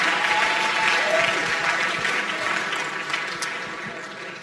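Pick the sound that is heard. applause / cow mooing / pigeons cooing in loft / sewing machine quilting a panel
applause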